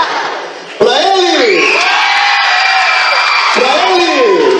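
A loud crowd at a PROERD graduation ceremony cheers and whoops for a graduate named João. The sustained shouting swells suddenly and stays loud, with a voice calling out over the crowd.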